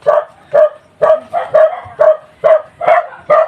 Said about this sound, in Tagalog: Ayan mga kalingap, may mga aso po, may mga aso.